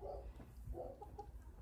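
Chickens on a farm clucking softly at close range, a few short calls over low rustling, with one brief louder burst at the end.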